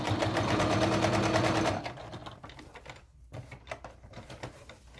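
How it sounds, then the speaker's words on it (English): A sewing machine stitches around the edge of a Valentine's Day placemat, a loud fast steady buzz for under two seconds that stops abruptly, followed by quieter handling noises. "We're going to sew all the way around all 4 sides and leave a portion on the bottom open"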